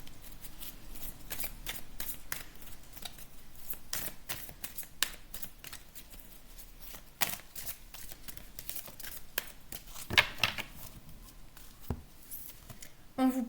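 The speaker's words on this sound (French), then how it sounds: "une dernière carte pour le domaine général" Tarot cards are shuffled steadily at close range, giving a soft, continuous papery riffle and patter throughout, quiet with occasional sharper flicks.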